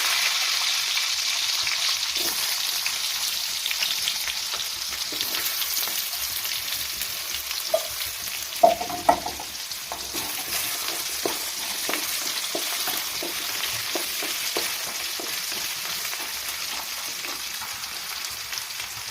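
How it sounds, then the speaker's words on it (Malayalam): Potatoes fry in hot sunflower oil with curry leaves, giving a steady, fairly quiet sizzle throughout with a few brief clinks and pops of stirring near the middle. "എണ്ണ ചൂടായി. കിഴങ്ങ് നമുക്ക് ആദ്യം ഇടാം."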